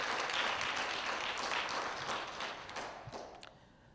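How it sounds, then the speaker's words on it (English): Faint, distant round of applause for Khalid El Hakim at a hip-hop event, a soft even wash of clapping that thins out and fades near the end. "Let's give him another well-deserved round of applause."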